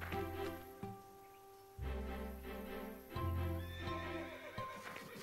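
Cartoon horses neigh and whinny repeatedly in a stable setting, loud and close, with clip-clopping hooves and a musical score underneath; no talking.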